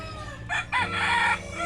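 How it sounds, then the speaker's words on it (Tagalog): A rooster crows once nearby, a bright, strained call breaking partway through, over faint background noise. "Ang gandang manok."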